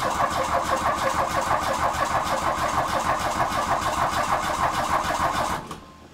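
A car engine cranks steadily for about five and a half seconds with a rapid rhythmic starter churn while its fuel injection lines are bled, then stops abruptly.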